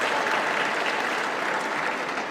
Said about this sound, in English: big round of applause for Christia